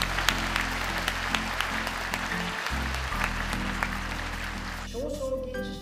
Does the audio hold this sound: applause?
yes